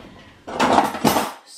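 A spoon scrapes and knocks against a pot while lifting boiled rag pudding out, giving two close, fairly loud metallic scraping bursts in a quiet kitchen.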